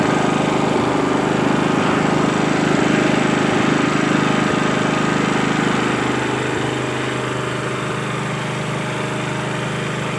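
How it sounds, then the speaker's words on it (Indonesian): A Robin RHV6100 generator engine running without an AVR, a loud, steady close-up drone with constant broadband rumble and no speech over it. "ini mesin gensetnya sudah siap kita sambungkan ke alat-alat listrik yang akan kita gunakan"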